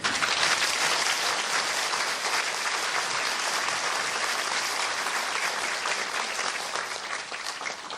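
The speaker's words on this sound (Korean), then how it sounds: "우리 박수 한번." Congregation applause at a church ceremony installing a retiring senior pastor, steady dense clapping held at even loudness throughout, tapering slightly near the end, with no voices over it.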